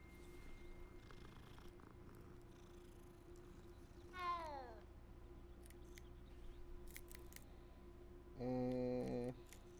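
Cat meows and purring from a cat in the video game Hogwarts Legacy, with a rising-falling meow near the middle and a longer harmonic meow toward the end over steady game ambience.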